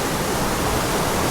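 A waterfall near Gambita, Colombia roars as a dense, steady broadband rush, loud and close, with no other sounds.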